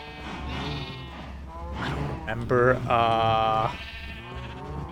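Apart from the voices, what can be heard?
sheep bleating in video game Minecraft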